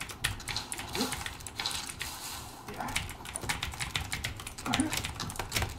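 Rapid, busy clatter of computer keyboard keys and mouse clicks during a climbing video game, close and continuous with a few louder bursts, with faint voice sounds underneath.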